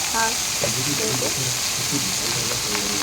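Turmeric hits hot oil in a pan for fried greens, giving a steady close sizzle and fry hiss throughout, with faint stirring and a brief voice murmuring underneath.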